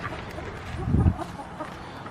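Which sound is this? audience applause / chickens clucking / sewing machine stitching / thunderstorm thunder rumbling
chickens clucking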